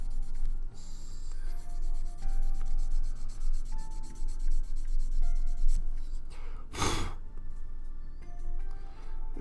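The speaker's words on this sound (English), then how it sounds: "If I keep sanding it for just a little bit longer, I might actually" Steady sanding of a small plastic Gunpla model kit part, a close continuous rubbing scrape with uneven strokes, plus a brief louder burst partway through.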